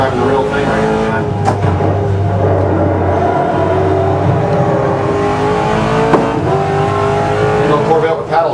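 A Corvette engine revs hard in a sim racing game, a loud, sustained roar with rising and falling pitch as gears change, plus a couple of sharp transient clicks.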